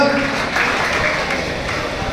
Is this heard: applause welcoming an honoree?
yes